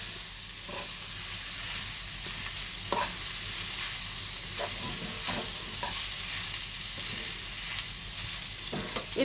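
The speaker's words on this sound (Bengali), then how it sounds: "পনিরের সাথে এটা খুব সুন্দর করে মিশিয়ে নেব।" Vegetables and paneer are stirred and mixed in a sizzling pan for a veg roll, with steady frying hiss under repeated scraping and stirring strokes, no talk.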